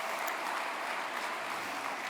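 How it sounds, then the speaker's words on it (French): An audience at a round-table conference applauds the first panelists, a steady, even patter of clapping filling the room for a couple of seconds without any voices. "Applaudissez-les, ce sont les premières."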